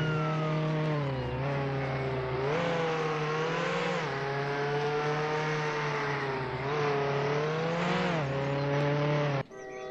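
A Ferrari in the Roblox game Jailbreak drives with a loud, steady engine drone, its pitch rising and falling as it accelerates and shifts, continuous and close for nearly the whole stretch before cutting off abruptly at the end.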